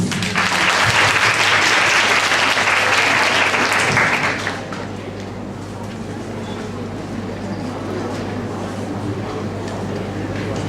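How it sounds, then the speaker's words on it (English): Loud crowd applause fills a speech competition hall for a university contestant, a dense steady clapping for about four seconds that then fades to quieter scattered claps and room noise. "A round of applause, please."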